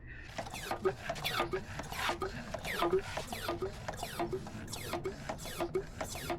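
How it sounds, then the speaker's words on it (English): A hand vacuum pump is worked to draw oil from a Sea-Doo GTX/RXT/RXP/GTR/Wake personal watercraft, giving a quick series of rhythmic squeaky clicks and soft hisses, repeated steadily and close by at low volume. "So this is a vacuum pump. So as you see, I pumped it up a little bit."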